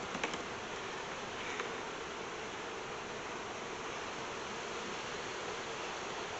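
A steady, dense buzz of many bees around a hive being worked fills the clip, close and continuous without pauses or talk.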